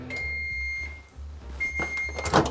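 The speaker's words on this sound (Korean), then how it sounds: "전자레인지에 2분 그리고 또 끊어서 2분 총 4분 정도만 돌리면 됩니다." A microwave oven hums steadily through the cooking of an egg dish, with a faint high whine, then a door or handling clatter and a sharp beep-like sound near the end; no speech.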